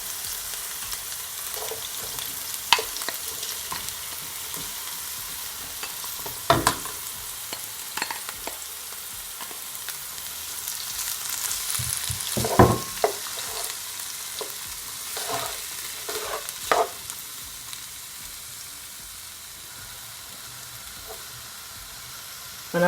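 Mixed vegetables sizzle steadily in a hot pan for Jamaican coconut callaloo saltfish fried rice, with occasional clinks and scrapes of stirring cutting through the continuous frying hiss; no talking.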